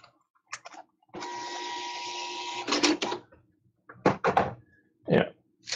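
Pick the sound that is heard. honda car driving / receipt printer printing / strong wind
receipt printer printing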